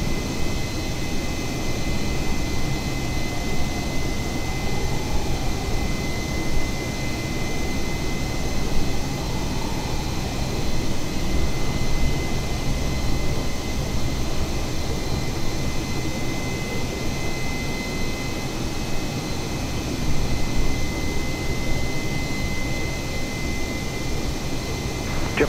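Asiana Airlines Airbus A320 jet taxiing and taking off at Incheon Airport, a steady broadband engine roar that stays loud and even throughout, with no voices.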